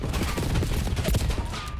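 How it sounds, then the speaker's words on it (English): Dense rapid gunfire from several players at once in a Call of Duty esports match, loud and continuous with overlapping bursts. "Everybody's shooting."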